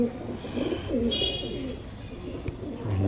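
Pakistani pencil-tail pigeons in a loft in Purba Bardhaman, cooing in a dense chorus of throaty rolling calls, near and steady, with a brief knock partway through and faint ambient noise.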